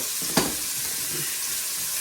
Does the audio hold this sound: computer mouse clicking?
no